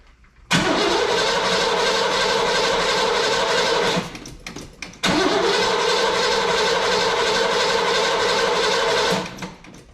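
An old Oldsmobile car engine cranks and catches, running loud and rough for a few seconds, cuts briefly, then fires again and runs steadily before shutting off, close by.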